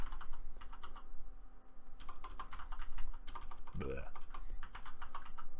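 Typing on a computer keyboard: close, quick bursts of clicky keystrokes in uneven runs with short pauses, with someone talking over the clacking.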